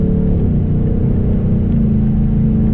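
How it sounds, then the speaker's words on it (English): A 2024 Ford Mustang Dark Horse with a Roush H-pipe exhaust growls steadily and loudly from inside the cabin, its deep engine note rumbling continuously without any talk. "doing downshifts, baby."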